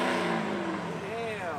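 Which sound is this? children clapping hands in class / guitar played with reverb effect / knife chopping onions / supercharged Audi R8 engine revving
supercharged Audi R8 engine revving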